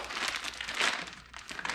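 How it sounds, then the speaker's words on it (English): Quiet crinkling and rustling of a plastic bag holding tractor brake springs, with a brief tearing rip partway through as it is opened, close and soft. "See if we can get this bag opened up"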